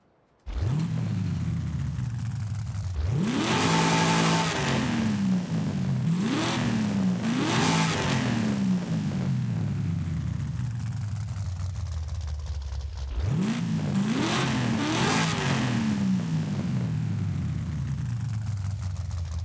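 A 1996 Chevy Impala engine in the Forza Horizon 5 racing game revs repeatedly, rising and falling through the range in loud sweeps. It holds a steady drone between the revs and surges again near the end, with no voices.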